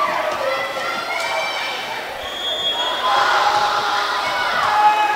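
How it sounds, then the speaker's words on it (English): Crowd noise from a cheering section at a varsity high school volleyball match between Red Bay and Belgreen, a steady wash of shouting and cheers filling the gym with a swell in the last couple of seconds. "We got some cheering section down here on the end for ourselves, making some noise."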